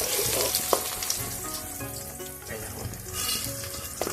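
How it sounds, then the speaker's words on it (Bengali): Pointed gourd and potato slices frying in oil, a loud close sizzle with stirring clatter and soft background voices underneath. "এখানে তোমার বৌদি ভাজা ভাজছে"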